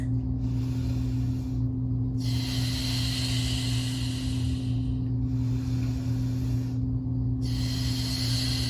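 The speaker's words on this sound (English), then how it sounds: "we inhale through the nose and we exhale through the mouth" Slow, audible breaths, inhaling through the nose and exhaling through the mouth, alternate between a soft nasal inhale and a longer airy exhale, repeated over a low steady hum during a Pilates floorwork session.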